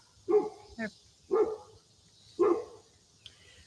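Three sharp dog barks about a second apart, with one softer yip between the first two, fairly close with quiet background.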